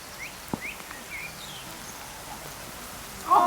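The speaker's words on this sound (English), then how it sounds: "the rain's really coming down now" Rain falling on a cricket ground during a rain-hit match, a steady soft hiss of drops with a few faint bird chirps and a louder knock near the end.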